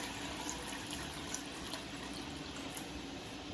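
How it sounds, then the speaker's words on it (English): Water runs steadily into a cooking pot while a palm nut stew with smoked turkey is being prepared, a soft, continuous splashing pour heard close and fairly quiet. "Add some water to it."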